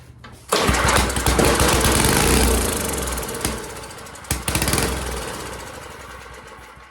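A small engine, apparently a lawn mower type, cranks and catches, then runs loud and rough with uneven surges and a couple of revving bursts before dropping back instead of settling into a steady idle.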